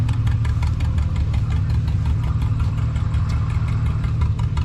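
Steady, close mechanical idle of a John Deere R tractor engine at an outdoor threshing show, an even low throbbing with rapid regular pulses and no talk.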